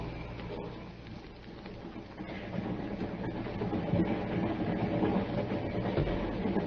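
Passenger train running in an audio drama scene, a steady low rumble and rattle of wheels on track that grows gradually louder and fuller, with faint rhythmic clicks beneath.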